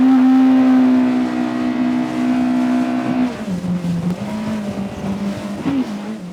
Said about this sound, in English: So I'm gonna do a full power takeoff in normal mode